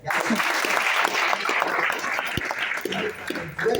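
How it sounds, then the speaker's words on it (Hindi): An audience at a training session bursts into hearty applause, a full crowd clapping loudly and steadily, thinning toward the end with a few scattered claps and faint voices mixed in. "चलिए जोरदार ताली हो जाए"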